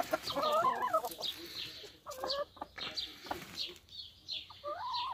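Several hens cluck in close, irregular bursts, with sharp upper calls and a brief flutter of movement between them.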